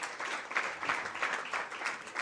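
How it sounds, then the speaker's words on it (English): Steady audience applause at a memorial lecture as a college of law dean comes forward, many hands clapping in an even, sustained wash with slight pulsing swells. "You can give a round of applause while she's coming."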